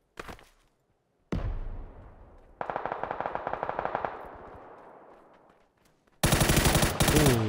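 Gunfire in the video game PUBG on PS4: a short early burst, then loud shots with echoing decay, a rapid run of automatic fire, and a final loud dense burst close by.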